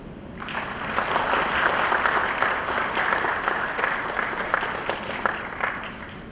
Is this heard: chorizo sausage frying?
no